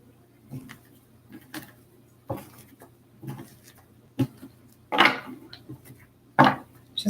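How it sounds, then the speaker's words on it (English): Tarot cards being shuffled indoors, with soft papery riffles and taps coming in irregular bursts over a low steady hum. "Just one more shuffle here."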